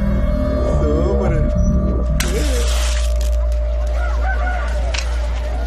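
Roosters in a cockfight scene cluck and squawk amid a loud, busy crowd, with bird calls rising over constant low rumble and background voices.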